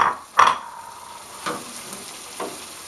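Egg frying in a pan for a Missouri omelet gives a steady, close sizzle, broken by a few sharp utensil taps and scrapes against the pan, with no talking.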